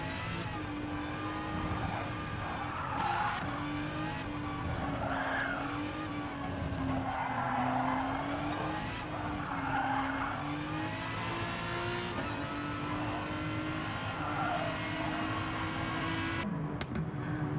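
Race cars in Gran Turismo Sport squeal their tyres while drifting into a corner, a long continuous skid over a roaring engine with rising and falling pitch, loud and sustained throughout.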